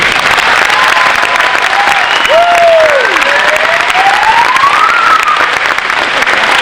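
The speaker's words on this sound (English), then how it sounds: "give a huge round of applause to both Mr. Mack and Ms. Steffi" Loud, dense applause from a large crowd at a graduation ceremony, sustained clapping with scattered cheers and whoops rising over it throughout.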